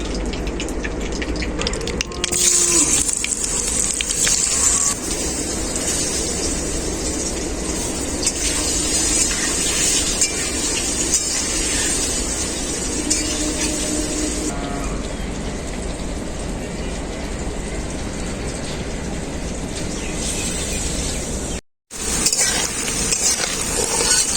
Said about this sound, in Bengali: ওই মাছ ভাজা তেলে আমি সেদ্ধ করা ওলকপিগুলো ভেজে নেবো